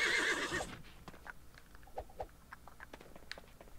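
A horse in Disney Infinity 3.0 gives a loud whinny at a Frontierland livery, followed by soft scattered hoof clops and small knocks fading into quieter ambience.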